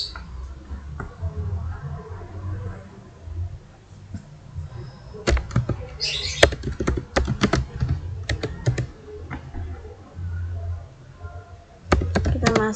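Computer keyboard keys clatter in irregular bursts while a router is configured for a GRE tunnel lab, close and fairly loud, with quieter pauses and a faint voice at times beneath the typing.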